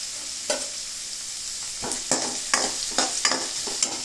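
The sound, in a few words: onions and green chilies stirred and frying in a pan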